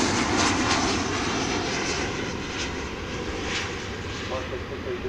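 A jet airliner in American Airlines' Reno Air heritage livery at Dallas/Fort Worth Airport sends a steady, fairly loud engine roar, heard at a distance and continuous throughout, with a voice talking over it.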